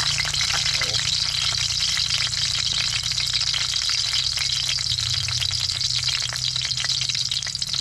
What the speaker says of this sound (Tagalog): Maganda na pitik-pitik na agad.